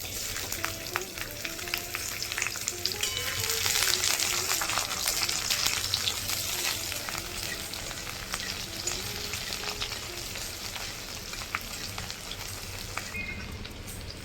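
Chopped onion fries in hot oil in a wok, a steady, close crackling sizzle that swells early and stays even, with light stirring and no speech.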